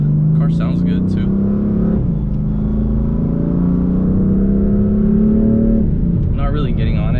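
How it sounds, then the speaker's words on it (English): BMW M3 running a Bootmod GTS tune, driven gently while its transmission shifts by itself: a loud in-cabin engine drone that rises, dips at a shift with a short burble, then climbs again, with a voice talking over it. "There's a little bit of like the burble noise when it shifts, when it does it on its own."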